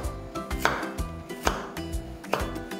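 A knife slices a radish diagonally on a cutting board, giving evenly spaced, crisp chopping knocks about twice a second, close and clear with no talking.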